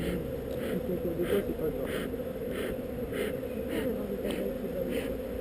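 Honey bees buzz continuously during an outdoor honey harvest while smoke is puffed over the hive, a low droning hum under a voice speaking throughout, with faint periodic rustling above.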